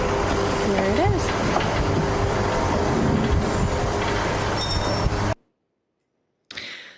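A train rolls into a station platform, a loud close rumble with wheel squeal and rail clatter, then sudden silence and a short final burst.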